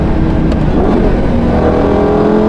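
A Lamborghini Gallardo's V10 engine revs loud and close, a dense continuous roar with rising pitch sweeps as it climbs through the revs, heard from inside the car.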